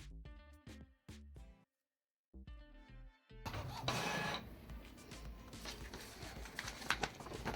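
Inkjet printer working through odd-numbered pages of a small coloring book: rhythmic mechanical clicks and carriage pulses, a brief silent gap, then a steady dense whirring feed sound, close and moderately loud.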